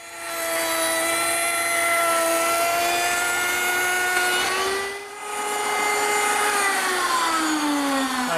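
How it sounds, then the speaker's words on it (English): A router table fitted with a slot cutter cuts a groove into the edge of a board. The high, steady whine holds its pitch, dips briefly midway as the stock moves through, then loads up again near the end. "And I'll use my router table to do that."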